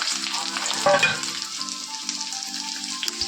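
Onions frying in a pan for a biryani, a steady close sizzle with a brief stirring clatter near the middle, continuous throughout with no talking.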